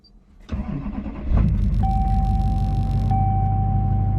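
A truck engine cranks, catches and revs up, then settles into a steady, rumbling idle with a thin electronic chime tone above it.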